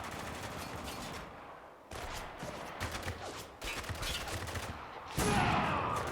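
Heavy gunfire in the video game Spec Ops: The Line, dense rapid bursts of automatic fire in a sustained barrage broken by short pauses, loud and close with a sharp new burst near the end.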